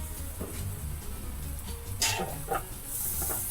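Chopped green onion stir-fries in a little oil in a pan for shrimp chili, a steady close sizzle with a few sharp scraping stirs and clinks, no talking.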